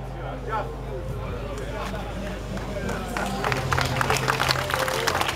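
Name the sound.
applause for the Scania 620 Dark Diamond truck unveiling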